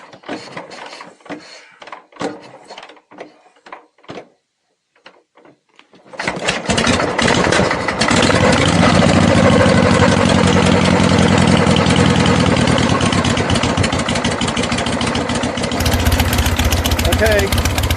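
A Shovelhead motorcycle engine is started after some quiet handling noises, then settles into a loud, steady, close idle that runs for several seconds, with a voice speaking briefly early on.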